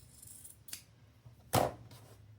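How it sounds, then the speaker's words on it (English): Scissors snip through excess quilt fabric during sewing: a faint cut followed by a louder, sharper snip about a second later, close and quiet with no talking. "now I can trim that excess"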